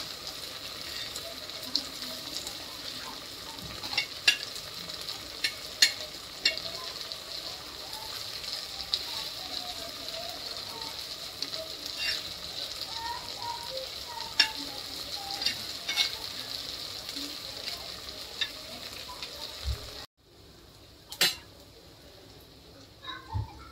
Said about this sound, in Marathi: इकडे आपली मच्छी पण फ्राय होते।